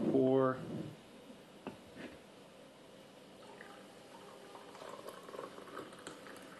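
Freshly brewed coffee poured from a French press into a cup, a faint, steady liquid trickle that runs for several seconds after a brief burst of voice at the start.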